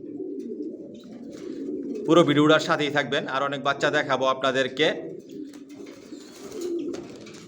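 Racing pigeons of the Johnson line coo in a loft, a low murmuring burble that runs through a stretch of close talking and carries on softly once the voice stops.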